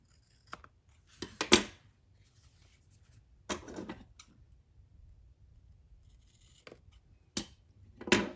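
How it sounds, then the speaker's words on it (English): Scissors cutting the corner of a Christmas craft piece, several short crisp snips spaced irregularly, close and fairly quiet in an otherwise silent room. "But I do need to cut this corner."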